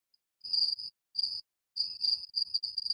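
Crickets chirp in broken bursts, a short trill, a pause, another brief trill, then a longer steady run, clear and unaccompanied by any voices.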